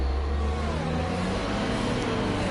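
Loud truck engine in a racing video game, a steady low droning roar with a faint rising whine, continuous and close, heard on its own without talk.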